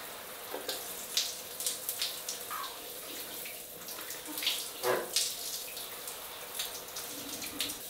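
Shower water runs over a moss pole plant indoors, a continuous splashing spray with irregular louder spatters and drips as the stream hits the moss and leaves, close and unaccompanied by talk.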